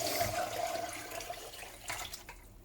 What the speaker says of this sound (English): I'm just going to tip this into my colander